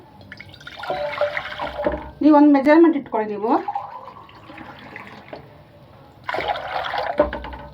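Two glasses of water pour into a heavy-bottomed cooking pot with a brief rushing splash between stretches of a person talking.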